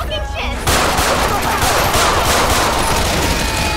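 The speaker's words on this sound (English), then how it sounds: "gunshots coming from everywhere" After a brief quieter moment, dense video game gunfire in GTA 5 erupts into a loud, sustained barrage of overlapping shots with no gaps.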